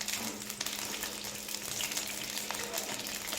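Cinnamon frying in hot oil in a pan, giving a steady, close crackling sizzle throughout with no talking.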